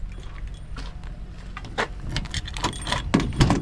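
Keys jangling at night in a delivery truck yard, a series of bright metallic clinks and rattles growing louder and busier toward the end, close by with no talk.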